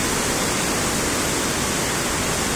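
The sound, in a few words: strong current of a big river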